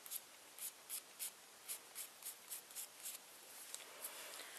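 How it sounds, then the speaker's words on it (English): A pencil sketches on paper in quick, light strokes, a soft scratchy rhythm of about a dozen short scrapes heard close up against a quiet room. "you can kind of sketch it out with a pencil"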